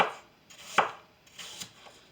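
Apples being chopped with a knife on a cutting board for a holiday fruit salad: a few sharp, separate chops with pauses between them, close and fairly quiet, with no talking.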